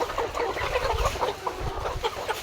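Chickens clucking close by in boxed cages on a poultry farm, a busy chorus of short, overlapping calls, no talking.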